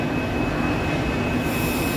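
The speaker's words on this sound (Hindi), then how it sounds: "मेट्रो ट्रेन जा रही है" A Mumbai Metro train rumbles and roars steadily as it departs Kandivali platform toward the depot, with a thin high whine from the wheels and motor throughout.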